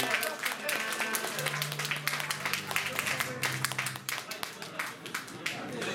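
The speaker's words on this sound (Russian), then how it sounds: "Аплодисменты!" An audience claps at a rock tribute concert in an art salon on Nevsky, dense continuous applause for several seconds with a voice over it.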